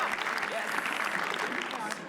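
An audience at a comedy roast show applauds continuously for a short burst, dense clapping and crowd noise at steady level before trailing off at the end.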